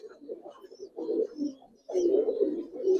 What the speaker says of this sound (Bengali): এক জোড়া ভাই হেরিকেল কবুতর দেখেন